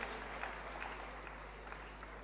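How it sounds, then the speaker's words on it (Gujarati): An audience at a large conference hall applauds a session by Suhani Shah, a faint, distant, continuous wash of clapping with a low hum beneath it and a few louder claps standing out. "જોરદાર તાળીઓ ફરી એના માટે"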